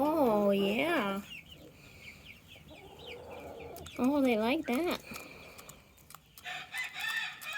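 Chickens cluck and crow close by while pecking at sunflower seeds and grains from a treat bucket, with several bursts of rooster-like calls and clucks, and a person briefly speaks among them.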